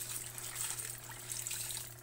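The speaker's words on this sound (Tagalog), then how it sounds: "hinay-hinay po tayong magbanlaw" Water runs and splashes steadily while a child is rinsed during a bath, making a close, continuous wash of sound with faint low hum beneath and no talking.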